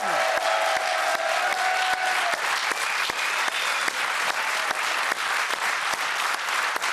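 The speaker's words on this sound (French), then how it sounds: "Je vous demande des applaudissements pour les 5 derniers candidats qui réalisent le parcours sans faute." A game-show studio audience applauds the final five contestants who finished the course without a mistake, a thick, even wall of clapping with sharp individual claps standing out and a brief tonal sound fading at the start.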